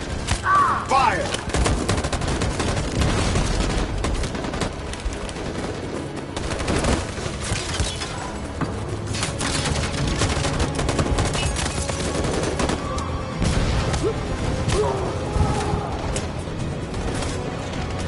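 A rapid volley of gunfire from the video game Detroit: Become Human, with dense overlapping shots and booms rolling on loud and steady throughout, and a shouted voice buried in the din.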